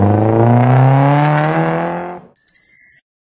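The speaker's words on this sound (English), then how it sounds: "Car." A car engine revs with a rising whine, loud and close, for about two seconds, then cuts off and a brief high chime follows.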